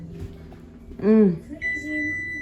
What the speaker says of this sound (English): our timer's about to go off